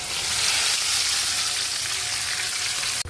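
Marinated chicken pieces fry in hot oil with a steady, close, crackling sizzle that stays even for about three seconds before a brief break at the end.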